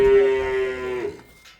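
A Kyrgyz Swiss breed cow at a livestock market gives a single close, loud moo, a sustained tonal call that drops off and fades after about a second.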